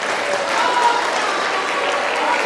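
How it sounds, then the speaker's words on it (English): An audience at a school steel band fall concert applauding, a dense, even wash of clapping that holds steady and fairly loud throughout. "give a round of applause for Martez"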